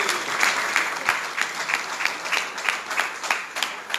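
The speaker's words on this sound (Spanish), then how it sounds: "un fuerte aplauso para Guillermo." The audience at a school cooperative congress in Buenos Aires gives a strong round of applause. The clapping is steady and moderately loud, with a regular pulsing rhythm throughout.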